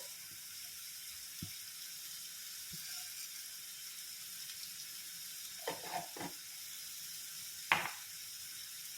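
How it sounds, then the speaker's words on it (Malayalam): Mustard seeds crackle in hot coconut oil in a pan, a faint steady sizzle with a few scattered pops and a brief cluster of sharper crackles, then one louder snap near the end. "കടുക് ഇവിടെ പൊട്ടി വന്നിട്ടുണ്ട്"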